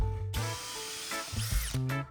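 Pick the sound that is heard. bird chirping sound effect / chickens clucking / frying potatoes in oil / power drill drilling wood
power drill drilling wood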